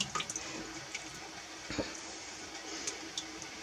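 Running tap water splashes over boiled book pages as they are rinsed in a sink, a steady close wash of water with a few light knocks and handling sounds and no speech.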